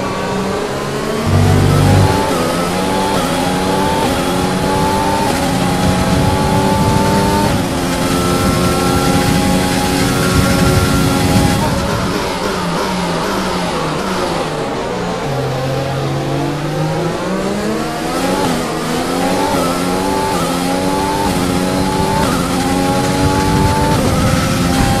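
F1 car engine in the F1 2020 racing game revs hard and climbs through gears, a loud continuous high-pitched whine rising and dropping with shifts throughout.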